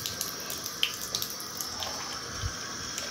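Water from a sink tap runs steadily for about three seconds, a continuous close splashing hiss with small clicks and knocks over it, and no one talking.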